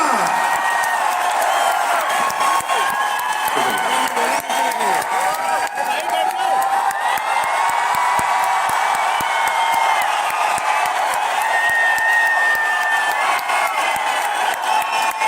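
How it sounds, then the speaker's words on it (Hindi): Applause and cheering from a large crowd at a Vestige award function in Delhi in 2022, sustained loud clapping with whoops and shouts, and an amplified voice briefly audible over the din. "मैं चाहूंगा एक बार जोरदार तालियां"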